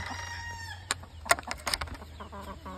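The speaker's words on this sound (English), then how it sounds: "Goddamn roosters." Backyard homestead roosters crow and chickens cluck nearby in short, irregular bursts over a low steady hum, with no talking.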